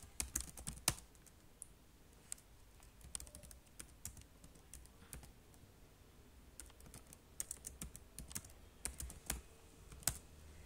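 Someone types a terminal command on a computer keyboard to update software repositories on an Ubuntu machine: irregular bursts of close, crisp key clicks and clacks over a quiet background, with no talking.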